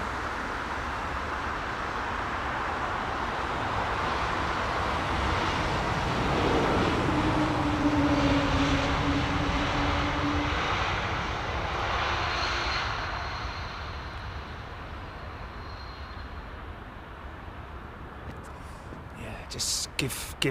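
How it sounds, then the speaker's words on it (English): An aircraft passing at London Heathrow Airport, a broad roaring whoosh that swells to a peak midway then fades, heard from a distance with someone talking over it. "This is the quietest aircraft ever, man."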